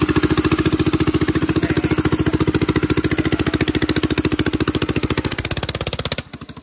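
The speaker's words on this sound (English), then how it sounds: "Oh, he's going so fast." A motorized drift trike speeds downhill with a loud, fast, steady engine putter close by, holding its pitch before it cuts off abruptly near the end.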